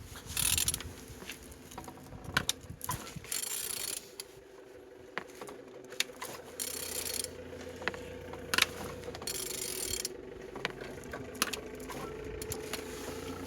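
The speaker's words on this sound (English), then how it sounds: "Turning your engine" An L22CDT engine is turned over by hand, giving a steady run of mechanical clicks and ratcheting gear sounds at close range, with no talk.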